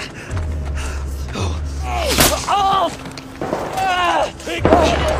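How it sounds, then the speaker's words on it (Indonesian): Several sharp gunshots ring out between bursts of a strained voice, with a low rumbling drone underneath throughout. "Namun tiba-tiba terdengar tembakan ia mengenai perut Matthews."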